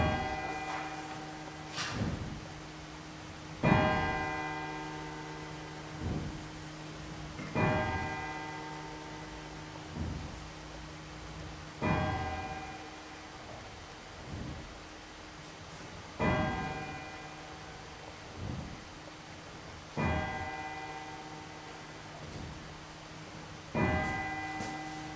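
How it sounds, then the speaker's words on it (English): A church bell tolled slowly in remembrance at a memorial service, struck about every two seconds with each stroke ringing out and fading into the next, steady and moderately distant. "We're going to toll the bell now 100 times in Archie's memory"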